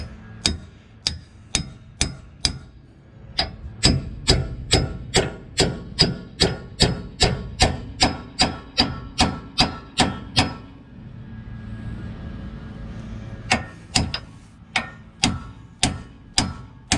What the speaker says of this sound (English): looks like I may need a bigger hammer.